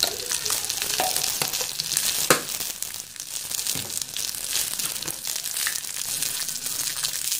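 Spices with turmeric sizzle and crackle steadily in a hot frying pan while being roasted for idiyappam, with occasional stirring scrapes and a sharp tap near the middle; no one speaks.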